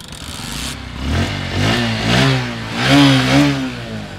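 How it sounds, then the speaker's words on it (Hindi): A 2024 Bajaj Platina 100 Comfortec motorcycle engine starts up close by and idles without throttle, running with a throbbing, uneven tone that swells and dips a few times. "भाई साउंड एक बार और स्टार्ट करके दिखाता हूं बिना एक्सेलरेट किए।"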